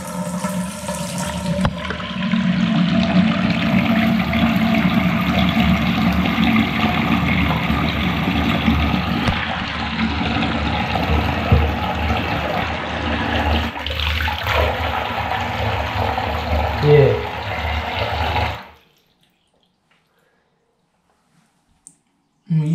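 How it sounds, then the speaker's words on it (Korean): A bathtub tap runs hard into a drain just cleared of hair clogs with a drain-cleaning product, a loud steady gush of water that stops abruptly near the end, followed by quiet with a faint click. "이제 물을 한번 틀어볼 건데, 물이 쫙 빠질지 궁금합니다."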